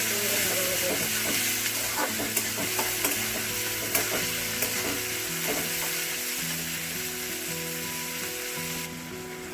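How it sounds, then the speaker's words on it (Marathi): Chopped tomatoes sauté in a pan for masala Maggi noodles, a constant close sizzle broken by repeated scraping stirs, with a faint tonal hum running underneath. "टोमॅटो टाकणार आहोत. छान असं परतून घेणार आहोत."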